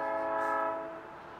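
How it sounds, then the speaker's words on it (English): A passing train sounds a sustained, multi-tone horn in the background, steady for most of a second and then fading as it recedes, heard from a bladesmithing forge workspace. "have a train in the background"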